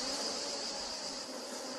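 Bees around a hive buzz in a dense, steady drone that holds evenly throughout, fairly close with no voices over it.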